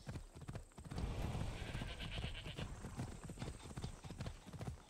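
Hooves of a galloping horse in Assassin's Creed Odyssey pound in a fast, continuous clip-clop rhythm, loud and steady against a dense game soundscape.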